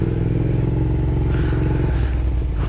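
A large motorcycle creeping through a narrow passage, its engine idling and rumbling steadily up close with some clatter and scraping, and no voices.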